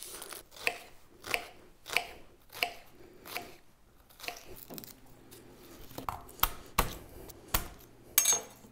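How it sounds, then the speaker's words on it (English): A knife chops an onion on a cutting board in a steady series of crisp, close knocks, roughly a dozen distinct strikes with short pauses, and no talk over them. "I'm gonna ever so professionally cut up my onion"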